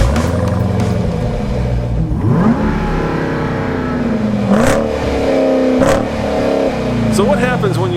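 A Jeep Grand Cherokee Trackhawk with a 707 hp supercharged Hellcat engine and all-wheel drive accelerates hard, its revs climbing and falling through repeated loud gear changes, up close, with talking over it.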